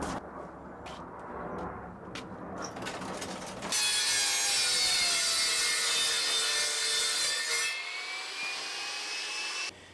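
A cheap table saw mounted on a broken Ryobi frame cuts through plywood, a loud steady whining rip with a rising pitch after a few seconds of lighter tapping and handling, sustained for several seconds before easing off.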